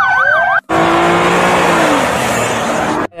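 A toy police car gives a brief electronic wailing siren, then a loud buzzing, engine-like toy sound holds steady before stopping abruptly.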